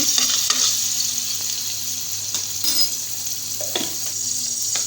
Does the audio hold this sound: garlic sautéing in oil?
yes